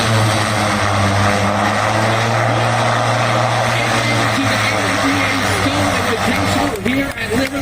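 A propeller airplane roars loudly with a droning engine and a shifting pitch as the prop moves into beta reverse pitch, under a constant buzzing whine.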